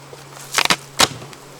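A few short buzzing bursts from honeybees passing close by at a hive, separated by quiet gaps, with a faint steady hum in the background.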